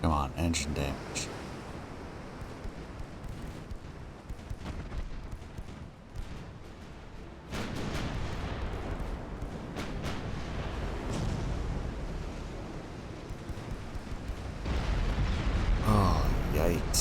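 Warship broadside gunfire in Ultimate Admiral: Dreadnoughts, heard as heavy booming artillery blasts and rumbling explosions that roll on through the whole stretch, loud and dense, with a narrator talking over part of it.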